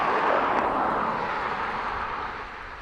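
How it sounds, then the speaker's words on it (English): Airliner taking off from runway 28 right at Dublin Airport, a broad roaring engine rumble, steady and fairly loud at first, then slowly fading as it moves away. "runway 28 right, clear for takeoff"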